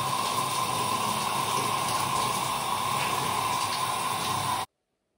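Shower water runs in a steady, even hiss for nearly five seconds, then cuts off abruptly into silence.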